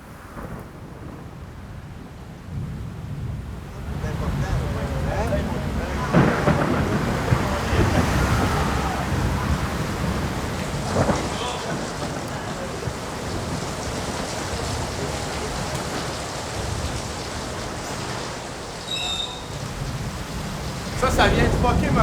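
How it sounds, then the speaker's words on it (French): Heavy rain in stormy weather on a city street near truck traffic, a steady broadband wash of downpour with bursts of thunder or gusts swelling through, loud and continuous from start to end. "La pluie, le mauvais temps"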